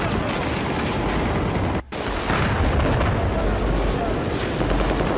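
Sustained gunfire in the shooter game Battlefield, loud and dense with rapid shots and booms, broken by a brief gap near the middle.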